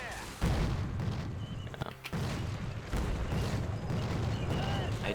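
Booming gunfire from a tank video game, heavy low blasts and rumbling shots running continuously under a voice giving a brief reply.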